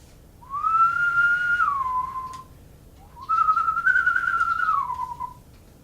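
Two long whistled tones, each rising then gliding down, separated by a short pause, clear and close, used as a sound effect in a read-aloud children's story.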